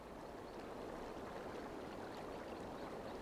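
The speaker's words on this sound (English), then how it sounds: "just listening to a river flowing like that is very relaxing to me" Gentle river water flows steadily in the video game Tengami, a soft continuous wash of running water with no voices over it.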